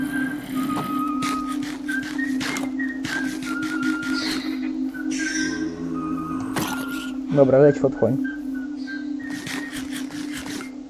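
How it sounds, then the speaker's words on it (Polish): Whistling in the Minecraft Oneblock Horror game, a few short tonal whistled notes recurring over a steady in-game hum, with people talking throughout. "Znowu sobie ktoś, znowu se któryś gwizda."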